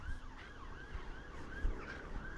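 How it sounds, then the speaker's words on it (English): A wailing emergency siren sweeps up and down repeatedly, heard faintly from a distance over low traffic rumble. "Sirens, cars revving, the whole lot."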